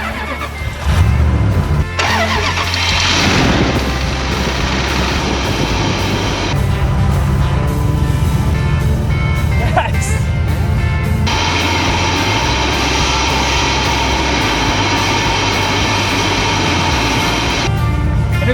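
A 2005 Dodge Dakota parked for five years cranks and fires, then settles into a loud, steady idle heard up close.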